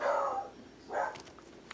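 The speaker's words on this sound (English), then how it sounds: "You can hear our dogs screaming in the background." Household dogs yelp faintly in the distant background, two short, high cries about a second apart in an otherwise quiet room.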